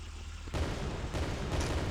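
An enemy tank in a video game fires at the player, heard as two or three dull booming blasts in quick succession, each leaving a broad rumbling tail.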